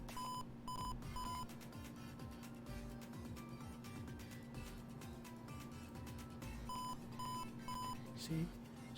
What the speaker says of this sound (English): it will be doing the beeping for 3 times